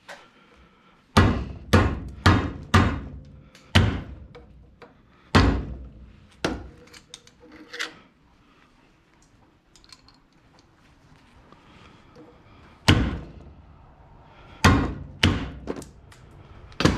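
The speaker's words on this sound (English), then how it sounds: "hold this with a hammer so I don't hit my fingers." Sharp, loud hammer blows knocking a brass piece off a plastic part, arriving in quick bursts of three to five strikes separated by quieter pauses, close and unaccompanied.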